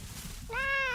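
Wild cat in the Vintage Story survival game, from the Fauna of the Stone Age mod, giving a single short, clear meow after a quiet moment of ambient background.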